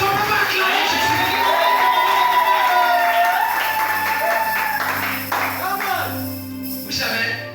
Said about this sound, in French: Est-ce qu'on peut pas acclamer Jésus?